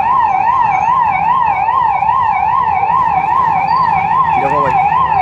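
A fire brigade siren wails in a steady, fast up-and-down cycle as the engine arrives at a shop fire near a building in a busy street, loud and close over traffic rumble and crowd noise.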